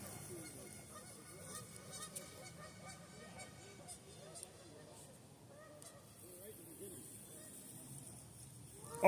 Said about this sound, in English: Birds, man.